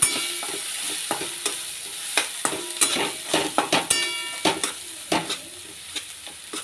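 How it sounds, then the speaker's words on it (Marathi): A spatula stirs turmeric, coriander powder and onion-garlic masala sizzling in a pan for shev bhaji. Sharp scrapes and clicks repeat irregularly over a steady frying hiss, close and clear, with no talking. "चांगल्या प्रकारे छान हे मसाले परतून घ्यायचे"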